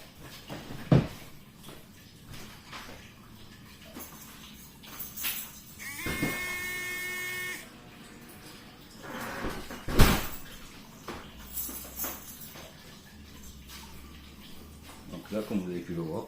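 A front door opens and sets off a tear gas diffuser, giving a brief thump followed by a loud sustained hiss of spray lasting about two seconds, then a second sharp knock; a voice talks around it in a room.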